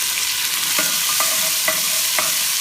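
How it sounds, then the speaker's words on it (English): Leek and celery with ginger sizzle steadily in a pan, a close, bright frying hiss broken by a few sharp stirring clicks, with no voices. "I'm going to go ahead and add my leek and my celery, and I'm gonna let this sweat just a little bit"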